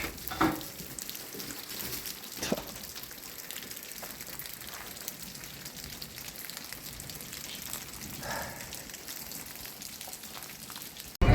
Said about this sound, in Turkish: Birden geldi yağmur. Ya, dolu şeklinde yağıyor.